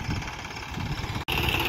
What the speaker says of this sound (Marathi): तर आता ट्रॅक्टरच्या मदतीने जिथे जिथे गड्डे आहेत तिथं पामचा ट्री सोडत आहे।